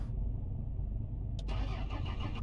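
A car's starter whirs in the driving game Mon Bazou as the engine is cranked, a continuous close, rhythmic churning with a brief burst of extra noise partway through.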